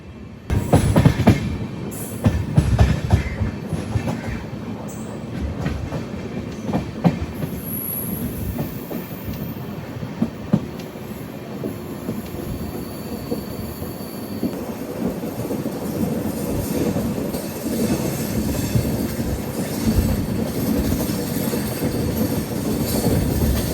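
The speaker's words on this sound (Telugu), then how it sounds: "ఆర్చ్ బ్రిడ్జ్ నుంచి ట్రైన్ వెళ్తుంది" An Amrit Bharat Express train rumbles over an arch bridge for a long stretch, wheels clattering and squealing on the rails, loud and continuous.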